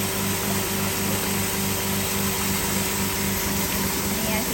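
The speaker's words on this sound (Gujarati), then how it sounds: "જો અહીંયા ઘરઘંટીમાં લોટ દળાય. ચક્કી છે." A household flour mill grinds flour with a loud, steady mechanical whir and a constant hum that never changes in pitch or volume, in a village home in Uttarakhand.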